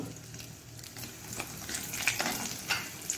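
Urad dal and a red chilli frying in a hot pan of oil, a soft steady sizzle with light crackles and faint scraping, low and continuous with no talking.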